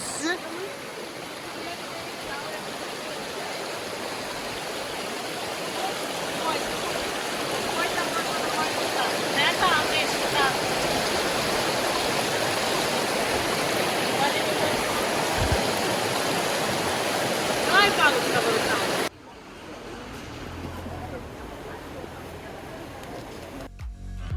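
A river in the Carpathians near Mykulychyn rushes in a steady broadband wash for about 19 seconds, then drops to quieter, more muffled flowing water.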